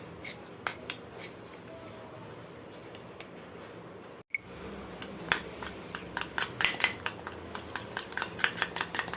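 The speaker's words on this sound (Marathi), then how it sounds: "थोडंसं कॉर्नफ्लोअर पीठ घेतलेलं आहे थोडंसं तूप टाकूया आणि त्याला पूर्ण हलवून घेऊया" Ghee and cornflour mixture stirred with a spoon in a bowl, scraping and clinking in quick irregular strokes, close and fairly clear, with a brief silent gap midway before the stirring resumes more briskly.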